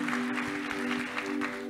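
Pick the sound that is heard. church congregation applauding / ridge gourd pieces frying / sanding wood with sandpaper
church congregation applauding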